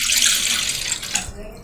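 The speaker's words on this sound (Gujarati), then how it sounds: "એના માટે આપણે એક તપેલીમાં 1 ગ્લાસ જેટલું પાણી" Water pours into a cooking pot in a kitchen, a steady bright splashing stream that runs for over a second and then tapers off.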